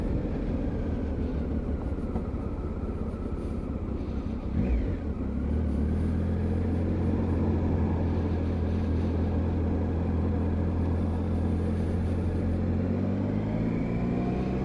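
A Triumph Tiger 955i motorcycle accelerates from low revs with a strong, steady engine drone that climbs in pitch after a brief gear change, heavy wind rush around it and no speech.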